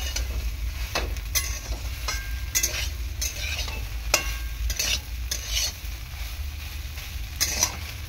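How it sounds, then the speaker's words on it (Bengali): Soybean chunks fry in a pan under a constant close sizzle, broken by repeated scraping stirs and utensil taps against the pan. "তো সয়াবিনটা ভালো করে আমি ভেজে নেব"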